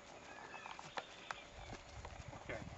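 Hooves of a horse clip-clop in a quick steady rhythm during a riding lesson in Belize, moderately distant, under faint outdoor ambience and birds.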